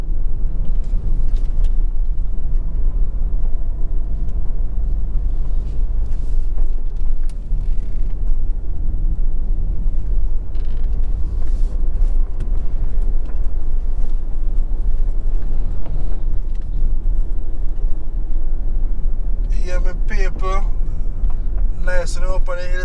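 A car driving on a road in Jamaica, heading from Bryce in Manchester toward Litchfield, Trelawny: a steady, loud engine and road rumble runs throughout, with a voice speaking over it and a brief rattling near the end.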